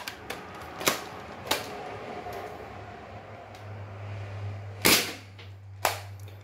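A Nerf Rival Knockout blaster fires cheap Chinese short darts, giving a series of sharp snapping shots at irregular intervals, a few faint and two louder near the end, over a low steady hum with no talking.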